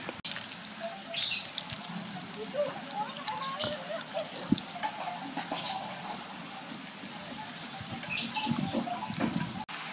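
Water poured over cingcau cuttings, a close, continuous splashing and trickling with small drips and clicks scattered through, no voices.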